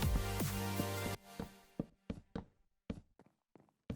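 Oak plank blocks being placed in Minecraft: a series of about eight short, dull wooden knocks at irregular intervals, close and clear, following a brief burst of denser noise at the start.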